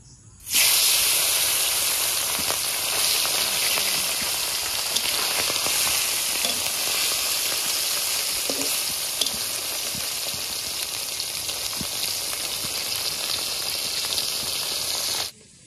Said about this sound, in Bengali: তেল গরম হয়ে গেছে, মাছটা দিয়ে দিচ্ছি।